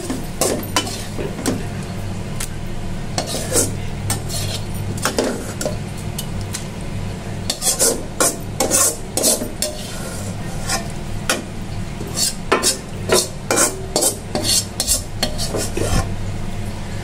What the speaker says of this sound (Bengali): আর কচু শাকটা এই যে একটা বাটিতে তুলে নিচ্ছি